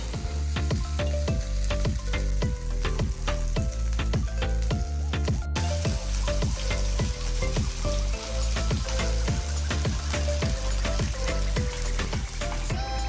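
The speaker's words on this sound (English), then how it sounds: "Drop a spoonful of mixture into the oil" Spoonfuls of breakfast batter fry in hot oil in a non-stick pan, giving a loud, dense, continuous sizzle with crackling pops throughout and no talking.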